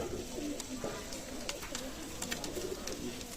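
Teddy pigeons, Oman blood and bears types, coo softly in a pigeon loft, with repeated low throaty calls at a moderate distance over a faint hum of background noise.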